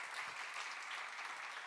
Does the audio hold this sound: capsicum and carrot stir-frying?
no